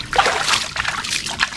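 Water is poured out in a short, splashy trickle that lasts under two seconds, close and fairly loud, with light sloshing and spatter and no clear talk over it.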